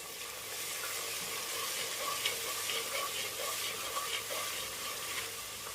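Ginger garlic paste fries in oil for a pot-cooked donne biryani, giving a soft, steady sizzle and hiss with faint stirring, heard alone and close.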